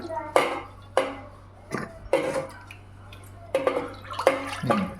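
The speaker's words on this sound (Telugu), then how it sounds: "కొంచెం క్లీన్ చేసేస్తున్నాను వాటర్తో, ఆ మసాలా అంతా వచ్చేసేటట్లు" A pressure cooker pot is rinsed with water to wash out leftover masala, giving short splashing swishes and clattering bursts with pauses between them, heard close up.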